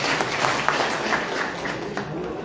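An audience at a community association ceremony applauds, dense, steady clapping that carries on at an even level from start to finish.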